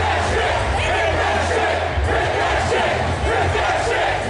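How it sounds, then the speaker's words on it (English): A wrestling crowd in Worcester chanting loudly and rhythmically at a ring official, a dense, close roar of many voices pulsing steadily throughout. "I can't even repeat what the crowd is saying"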